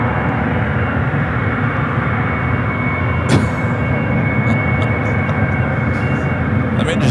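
GE90 engines of a Boeing 777 roar loud and steady across the airport, a dense continuous jet rumble with a whine on top, while someone talks over it.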